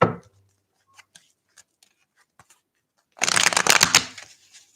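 Tarot cards are handled: a few soft, scattered taps and flicks, then a quick, crisp burst of shuffling near the end, close and fairly quiet.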